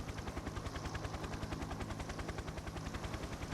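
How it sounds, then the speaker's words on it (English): A helicopter gunship in the video game Toy Soldiers: Cold War makes a fast, even rotor thumping that pulses steadily throughout, fairly quiet and heard on its own. "Also, helicopter gunship."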